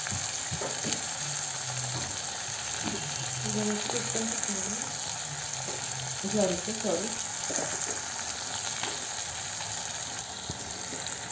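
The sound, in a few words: okra frying in oil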